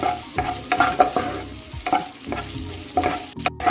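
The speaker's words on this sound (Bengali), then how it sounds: "আদা রসুন কুচি দুটোকে আমি 1 মিনিটের মতো ভেজে নিচ্ছি।" Chopped ginger and garlic fry and are stirred in a pan, with bursts of close sizzling and scraping strokes of a utensil coming in irregular pulses, loud and alone without speech.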